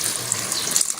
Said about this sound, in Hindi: अब हम इसके अंदर थोड़ा सा पानी शामिल करेंगे